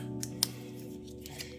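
Scissors snipping at a craft table while preparing a sublimation mug for a Cricut mug press, a few quiet, quick cuts over a steady background hum.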